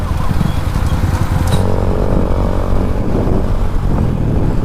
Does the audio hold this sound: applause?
no